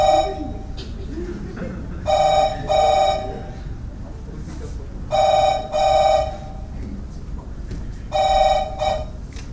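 A telephone rings in bursts of repeated electronic trills, loud and close, with pauses between the rings over a steady low background.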